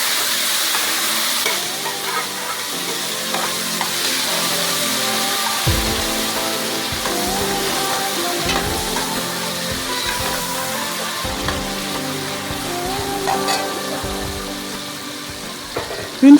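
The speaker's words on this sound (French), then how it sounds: "on va laisser bien griller et faire revenir à l'intérieur la tomate écrasée et réservée" Crushed tomato fries in a pot of okra sauce with smoked fish, giving a continuous sizzle and bubbling, occasional stirring clinks, and a steady moderate level throughout with no talking.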